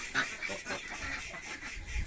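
Muscovy ducks on a farm give a few short, breathy calls close by, fairly faint, with a low rumble of background noise underneath.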